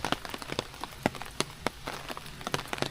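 Rain patters on an umbrella along a Japanese mountain trail on Miyajima, making close, irregular taps and soft drips over a steady wet hiss.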